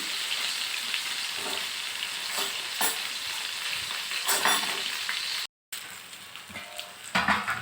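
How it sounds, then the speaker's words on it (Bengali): Lentil patties wrapped in bottle gourd leaves fry in oil on both sides with a dense, steady sizzle and occasional scrapes as they are turned. The sound is close and continuous, cut by a brief silent gap, with no talk. "এই যে মা ভালো করে এপিট ওপিট করে ভেজে নিচ্ছে"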